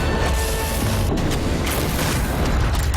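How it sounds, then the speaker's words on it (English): A light bomb detonates in the video game Nosgoth, a loud broadband blast that holds as a dense, rumbling roar for about three seconds with no speech over it. "It explodes in a dazzling burst of light that blinds any nearby vampire caught in its rays."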